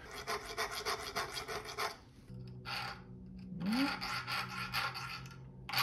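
Rhythmic hand-filing strokes rasp across a metal nail clipper to cut notches, coming in close bursts with pauses between, plus a brief low hum and a rising squeak in the middle.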